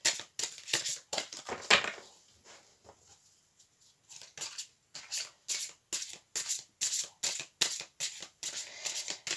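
Tarot-style cards are drawn and shuffled from a deck, producing a run of quick, close, crisp flicks and slides with a brief quiet gap before a steady rhythmic series resumes.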